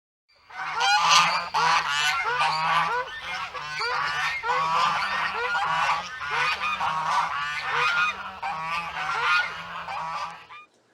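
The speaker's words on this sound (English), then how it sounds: "Can you find the goose?" Geese on a farm honk continuously for about ten seconds, a loud, dense chorus of overlapping nasal calls with no talking.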